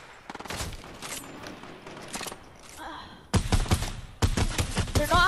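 Bursts of gunfire in the video game Fortnite, loud and close, coming in rapid clusters that grow denser toward the end, with voices talking underneath.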